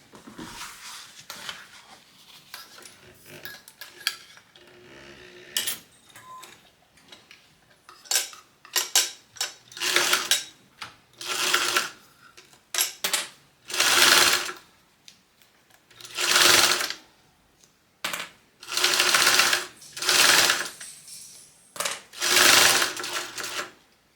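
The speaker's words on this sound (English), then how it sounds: "now I'm going to go and baste across the bottom" A sewing machine runs a basting stitch across the bottom of a fabric train case, going in repeated bursts of whirring stitching separated by short pauses and handling noises, close and fairly loud with no talk.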